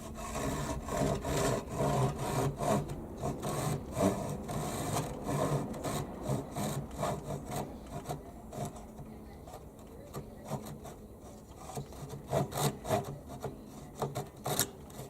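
A Japanese pull saw cuts through a wooden board in steady rasping strokes, close and rhythmic, slowing briefly midway before quicker strokes resume.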